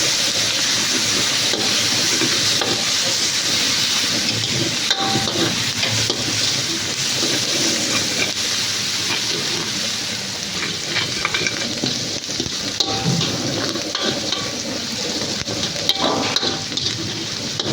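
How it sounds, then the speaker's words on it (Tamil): Green chillies and onions fry in a pan for a Kerala kingfish head curry, a loud continuous sizzle and hiss with the rustle and scrape of stirring throughout, and nobody speaking. "இது கூடயே வெட்டி வச்சுருக்க பச்சை மிளகாயும் வெங்காயத்தையும் போட்டுப்போம்"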